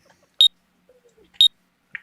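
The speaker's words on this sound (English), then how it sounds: "Oh, that's my alarm." Two short, loud electronic beeps about a second apart from a workout alarm going off, with a faint murmur between them and another brief tone at the end.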